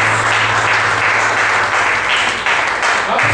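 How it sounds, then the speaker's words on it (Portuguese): Applause from a church congregation during a service, a loud continuous roar of many hands clapping with a low hum underneath, steady throughout without speech. "Você pode dar uma salva de palmas, Senhor?"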